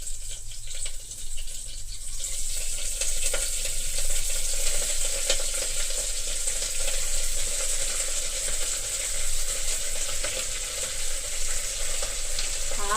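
Amaranth leaves (thotakura) fry in hot oil with a dense, continuous sizzle and crackle that holds steady and close throughout, faint stirring underneath and no voices.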